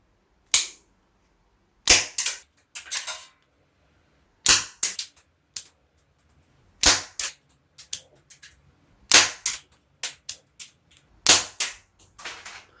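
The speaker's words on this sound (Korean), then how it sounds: "네, 5발 모두 잘 나갔네요" A pocket revolver switch gun replica model gun fires caps in sharp, loud cracks, about five main shots spaced a couple of seconds apart, each followed by small clicks and rattles of handling between.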